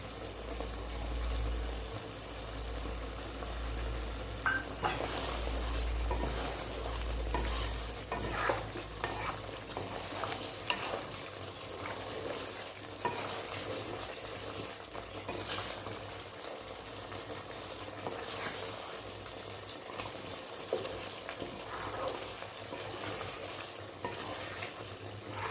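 Vegetables frying and being stirred in mustard oil in a pan while cooking jhinge (ridge gourd) jhal, a continuous sizzle with scraping spoon strokes throughout, no talking.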